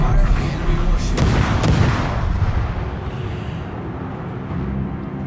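Warship main guns in World of Warships fire a couple of heavy booms in quick succession near the start, then rumble away into a low, steady ambient hum.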